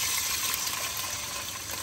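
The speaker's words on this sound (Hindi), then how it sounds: "मैं पानी डाल रही हूँ" Water pouring steadily into a pot for cooking rice, a continuous bright gushing splash that holds at an even, fairly loud level throughout with no talk.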